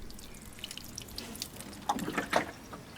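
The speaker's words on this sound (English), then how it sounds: "give it a thorough watering" Water trickles and splashes into a pot of compost as it gets a thorough watering, faint at first, then a brief louder gush near the end, with no voices.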